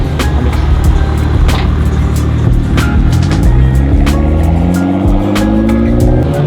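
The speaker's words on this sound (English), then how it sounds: "Will's gonna take the M2 out for the first time and get this thing cooking." A BMW M2 race car pulls out onto the track, its engine loud and close, revving up and down in rising and falling sweeps with sharp gear-change bursts throughout.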